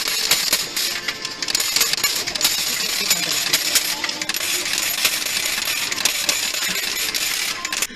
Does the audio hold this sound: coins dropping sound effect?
yes